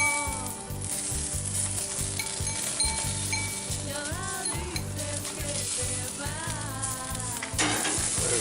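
Eggplant sizzles and fries steadily on a grill, a dense crackling hiss running throughout, close and fairly loud, with occasional light clinks and a few faint voice-like tones.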